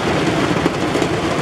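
Heavy rain pouring down outdoors, a dense steady hiss filling the moment without any voices.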